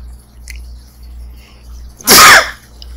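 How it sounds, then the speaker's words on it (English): A single loud sneeze from a person outdoors on a dairy farm bursts out suddenly over a low, quiet background hum. "Excuse the sneeze."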